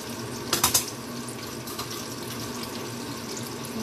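Tofu sizzles and browns in a hot pan with a steady close hiss, broken near the start by a brief cluster of clatters as the pieces are turned.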